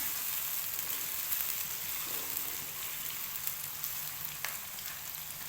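Two large onions fry to light brown in oil, giving a steady, fairly quiet sizzle with soft crackles and the occasional stir, and no voice over it.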